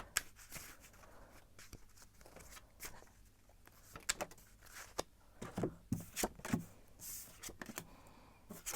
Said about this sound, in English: I'm gonna shuffle and see what the cards have to say about this.